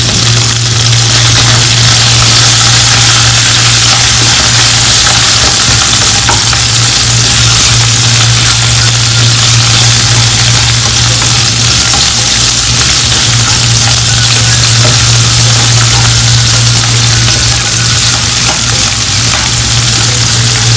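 Lemongrass and chopped onion frying in a hot pan, a dense, steady sizzle with occasional stirring scrapes that stays loud and continuous throughout, backed by a low constant hum.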